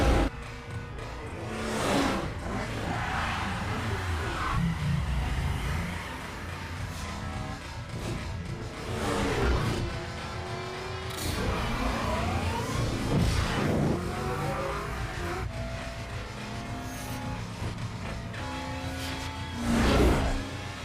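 A street-racing car in an action chase scene accelerates with repeated revving surges, set against a constant roar of engine and road noise with brief swells of louder bursts.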